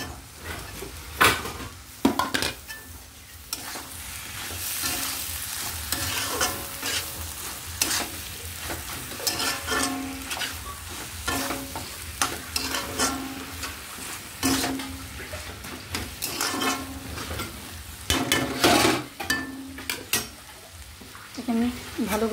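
Chopped banana stem (thor) stir-fries in a pan on a home stove, with a steady sizzle broken by repeated spatula scrapes and clatters against the metal, close and busy throughout.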